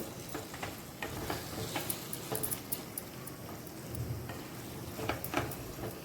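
Soybean masala sautés in a pan, giving a steady close sizzle broken by repeated light scrapes and ticks from a stirring spoon. No voice is heard.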